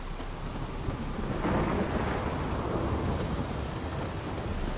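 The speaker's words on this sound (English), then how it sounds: "I'm happy it just started raining for this" Steady rain pours with rolling thunder in The Witcher 3, a dense, loud wash of rainfall that swells into a deep rumble partway through and holds without speech.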